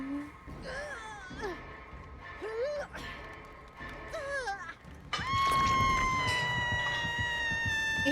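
A cat meows close by, in several rising and falling calls over about five seconds, then a loud steady electronic tone takes over.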